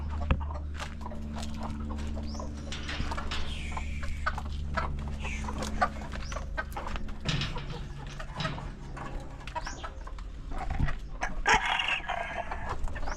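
Hens in a backyard coop giving scattered clucks and calls over a constant low hum, with occasional rustling and knocks nearby.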